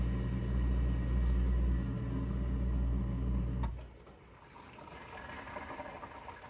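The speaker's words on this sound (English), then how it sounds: "that sounds like water's coming in" A Miele dishwasher's steady electrical hum cuts off, then a softer rushing, splashing sound of water flowing in as it fills takes over and continues.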